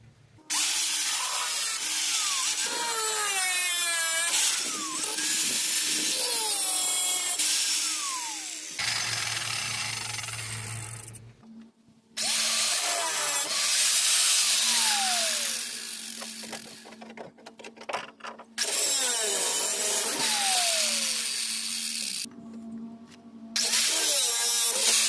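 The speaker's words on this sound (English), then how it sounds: "so we're just going to try to grind the head off." A grinder cuts off rusted screw heads on a floor bar of a 2010 Ford Transit Connect van, with long loud whining passes that rise and fall in pitch, separated by short pauses, and no talking.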